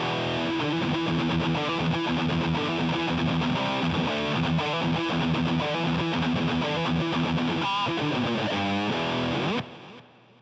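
An electric guitar played through the 5150 drive amp model of a Boss GT-8 multi-effects unit gives heavily distorted, saturated riffs and chords, loud and steady, ending in a sudden cutoff.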